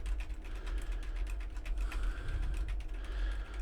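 Rapid clicking of keys being typed on a computer keyboard, picked up by a Fifine K683A microphone on a boom arm, steady and close, over a low constant hum.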